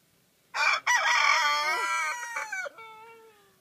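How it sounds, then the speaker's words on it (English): A rooster on a ranch crows once nearby, a loud strained cock-a-doodle-doo with a brief break near the start and a trailing end, over quiet background. "That rooster."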